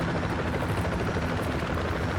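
A helicopter in the military video game Project Reality thrums with a loud, steady rotor and engine drone, continuous and close, with no talk over it.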